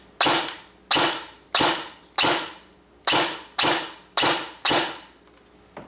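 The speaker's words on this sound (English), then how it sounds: "and then now I can do semi shots" An airsoft gun firing semi-automatic shots after a gearbox repair: eight sharp, evenly spaced cracks about two-thirds of a second apart, each with a short mechanical decay, close and loud with no speech.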